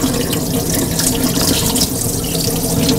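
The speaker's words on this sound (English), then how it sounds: "Once the bowl is filled up, we're then going to just gently pour out the water." Water pours and splashes out of a bowl of sushi rice being rinsed at a sink, a steady continuous running and trickling sound with no talk.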